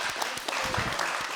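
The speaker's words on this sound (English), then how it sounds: "Please, clap your hands to all of you, because you're tough guys." Applause from a small group after a jiu jitsu sparring session, steady dense clapping at moderate loudness with a few louder individual claps.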